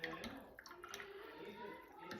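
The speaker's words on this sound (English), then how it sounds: "I'm gonna rinse off my brush." A paintbrush swished and rinsed in a water cup while painting a face in acrylics, soft faint sloshing and dripping with small taps, close up and quiet.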